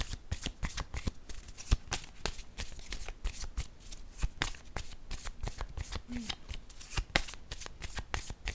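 Tarot cards are shuffled close up in a rapid, steady stream of crisp riffles and snaps that continues for several seconds, with faint speech in the background.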